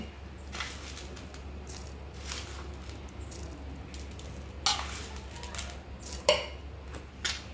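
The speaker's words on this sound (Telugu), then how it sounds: "కొంచెం కరివేపాకు, కొన్ని పప్పులు వేసుకొని మెదగనివ్వాలండి." Curry leaves and lentils roasting in a pan, with metal spoon scrapes and clinks against the pan over a low steady hum and sizzle, sharper knocks near the end.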